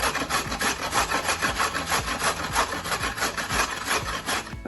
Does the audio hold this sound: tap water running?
no